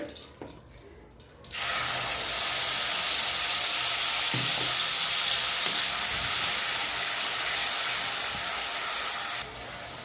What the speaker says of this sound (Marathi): जे मी वाटण काढलं होतं अद्रक लसूण आणि कोथंबीर आता आपल्याला ती घालायची तेलामध्ये